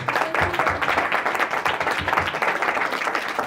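An indoor audience at a welfare society gathering claps loudly and steadily, a dense sustained applause with no break.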